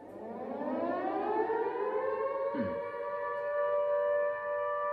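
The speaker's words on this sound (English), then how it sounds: "if you hear a siren, this means there's bombs or rockets incoming." A civil defense air raid siren winds up and holds a rising, wailing tone, loud and sustained.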